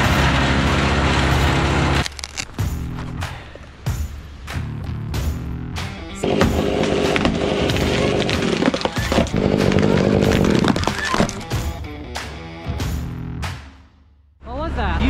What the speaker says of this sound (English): Plastic shovel that went through the chipper.